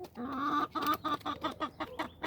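Hens cluck close by in a quick run of short, choppy calls, one after another without pause, on a small garden homestead.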